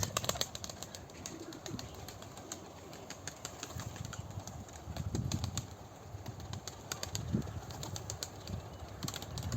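Pigeons coo softly in low, repeated murmurs, with occasional wing flaps and rustling over a steady outdoor background.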